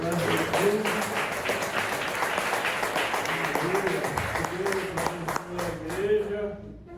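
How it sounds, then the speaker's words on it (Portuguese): A church congregation at a healing and deliverance worship service applauds with dense, steady clapping that fills the room for about seven seconds, with voices calling out over it, before it cuts off sharply at the end. "Dá uma linda salva de palmas para Jesus."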